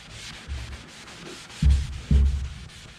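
Terry cloth towel rubbing polishing compound in circles over boat gelcoat, giving a soft, steady scrubbing swish with a few heavier, louder strokes. It is close and no one talks.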